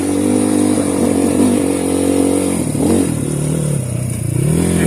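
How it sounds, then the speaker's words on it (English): An EGL Trailmaster TM38 300cc dirt bike engine runs loud and close throughout, its steady rumble dipping and wavering irregularly as it sputters and clatters, then picking back up toward the end. "Did you hear that sputtering though?"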